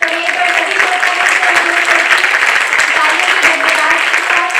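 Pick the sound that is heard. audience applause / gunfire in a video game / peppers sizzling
audience applause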